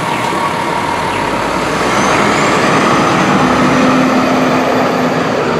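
At night a heavy bus rumbles past nearby, a loud continuous roar of engine and tyre noise that holds steady throughout without talk.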